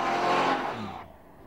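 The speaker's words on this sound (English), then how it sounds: "Nudge the gas pedal and the car takes off like a scolded cat." A 1993 Cadillac Allanté pulls away hard, its engine note rising loud and close for about a second before dropping off abruptly as the car moves away.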